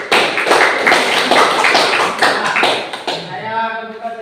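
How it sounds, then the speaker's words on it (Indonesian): Classroom group claps together in a burst of brisk, dense applause lasting a few seconds, then fades as a voice begins speaking at the end. "tepuk tangan dulu"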